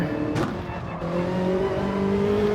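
A Ferrari 458 Italia engine in a racing video game drones and rises in pitch as it accelerates, a loud, steady tonal whine filling the whole moment without speech.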